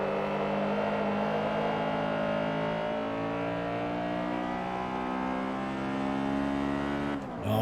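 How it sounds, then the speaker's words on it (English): Engine of a Seat front-wheel-drive race car in Forza Motorsport 3, revving loudly and steadily with rising harmonic whine throughout, ending with a brief shift near the close. "Oh yeah, listen to that engine."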